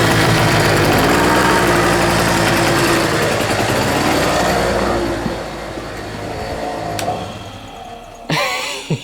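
A generator engine runs on half choke, loud and steady with a rough droning hum that eases partway through, then a sharp shift as a Numatic vacuum cleaner's motor kicks in near the end.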